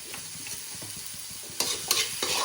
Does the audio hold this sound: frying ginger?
yes